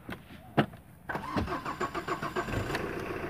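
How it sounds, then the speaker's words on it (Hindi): A Royal Enfield Bullet engine starts with a sharp click and brief cranking, then catches and settles into a close, even, pulsing idle. "चलिए अंदर जाके स्टार्ट कीजिए थोड़ा बुलेट गाड़ी को।"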